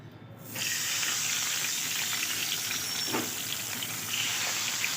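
Pabda fish are slipped one by one into hot, lightly salted oil in a frying pan, and a loud, dense sizzle bursts in suddenly and keeps crackling steadily.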